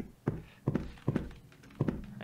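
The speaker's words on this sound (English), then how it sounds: "I stomp really loud when I run." Heavy, loud footfalls of a running video game character, four thudding stomps at an uneven pace, close and alone with no talk.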